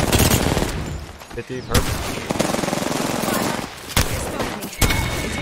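Sustained automatic gunfire rattles in Predator: Hunting Grounds, dense close bursts with sharp louder shots punctuating the stream, while voices speak briefly over the shooting.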